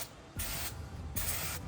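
Two short hissing bursts of brake cleaner sprayed onto a brake rotor during a drilled and slotted brake kit install on a Mitsubishi Evo X, close and loud.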